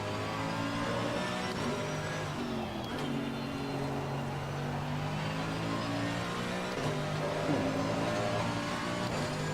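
A race car engine on full throttle in Assetto Corsa Competizione at the Nürburgring roars steadily and close. Its pitch climbs and drops in stepped shifts throughout, with no talk over it.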